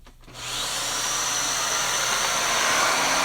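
A vacuum cleaner switches on and spins up within half a second into a loud, steady whine and rushing airflow that holds constant, heard close with no talking.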